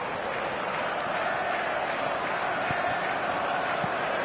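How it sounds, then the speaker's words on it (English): Stadium crowd noise from an eFootball match, a steady dense roar with no clear peaks, carrying on throughout and heard alone without commentary. "the crowd level has gone up a notch or 10"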